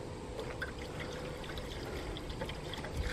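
A gallon of water pours steadily in a continuous splashing stream, fairly close and even in level throughout, with no voices.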